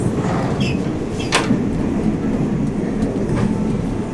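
Inside a private first-class room on a moving sleeper train from Surat Thani to Bangkok: a steady low rumble and rattle, with a brief clunk or sliding-door sound partway through.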